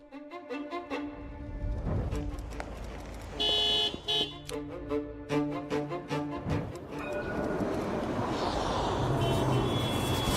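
Car horns honk repeatedly in a traffic jam, with several loud toots and longer blasts of varying pitch over a steady rumble of engines and street noise.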